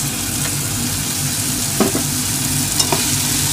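Tomatoes and carrots sizzling steadily in a hot pan, a constant frying hiss with a couple of soft stirring scrapes, close and without talk.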